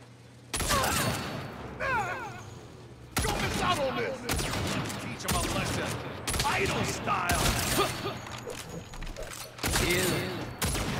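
Bursts of gunfire in the Saints Row video game, loud rapid volleys cutting in and out in several separate blasts, with a low steady game hum underneath between the shots.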